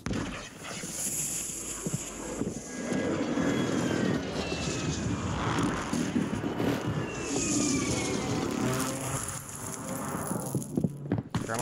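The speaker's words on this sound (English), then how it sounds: "Friendly precision airstrike inbound." In the Call of Duty Warzone video game, an aircraft making a precision airstrike drones overhead in a sustained engine roar, with scattered game effects and a dog barking in the mix.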